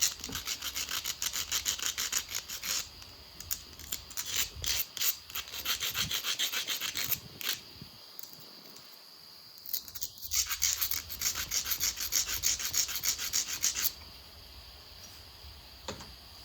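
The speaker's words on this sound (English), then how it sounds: "flip it over and grind it" Stone point edge being ground with an abrasive, giving a steady dry rasping scrape in repeated strokes, close and fairly quiet, with a short pause near the middle and no talking.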